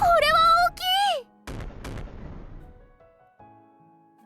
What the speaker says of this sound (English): A succession of fireworks mingle together, and occasionally a big one rises up to the heavens